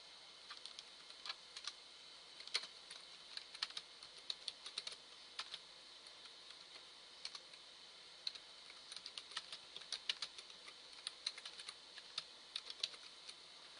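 Bursts of soft, irregular key clicks on a computer keyboard while website text is edited, close and quiet, with short pauses between runs over a steady low hiss and no talking.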